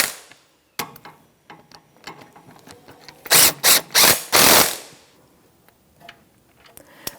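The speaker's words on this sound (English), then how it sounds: "13mm socket, and we'll snug that up. So we're just going to bottom them out, and then we'll torque it." A ratchet with a 13mm socket snugs bolts on a 2008-2013 Nissan Rogue during a front axle seal job: a burst of loud, rapid clicking bursts mid-clip among quieter tool clinks.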